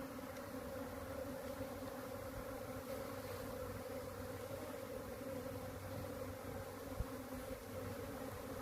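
A spring honeybee swarm entering a box produces a dense, continuous buzzing drone, steady and fairly close, with no one talking over it.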